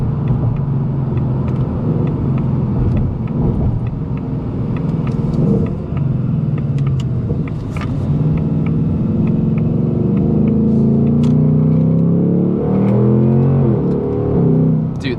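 A 2024 Mustang GT V8 pulls hard in a steady, loud roar, with the 10-speed automatic snapping through several upshifts as the pitch climbs, drops and climbs again, close inside the cabin at night with no talk.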